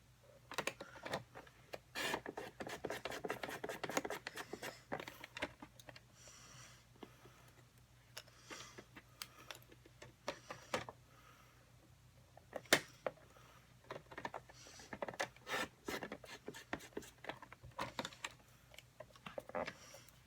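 Three stacked pieces of card stock are cut together at a crafting table, giving quiet, scattered sharp clicks and snips in an otherwise hushed room.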